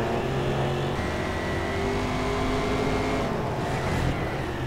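Race car engine in the racing video game GRID, a damaged car being crashed repeatedly, roaring continuously at high revs with steady loud harmonic drone throughout, no talking.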